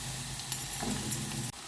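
Ridge gourd pieces dropped into a pan of softened frying onions, a steady sizzle with a brief stirring scrape partway through, then a sudden dip near the end.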